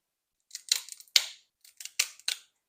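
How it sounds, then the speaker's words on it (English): Cheap kitchen scissors snip through a lobster tail shell in several sharp, crisp crunches with short pauses between cuts, close and fairly quiet. "I've got some cheap, crappy kitchen scissors here, and we're going to try to use them to butterfly the shell"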